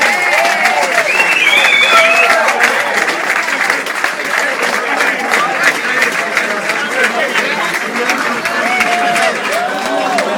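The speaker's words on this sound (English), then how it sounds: "so I might give them a round of applause." A crowd at a county championship celebration applauds steadily, many hands clapping in a dense, sustained round that carries on for several seconds.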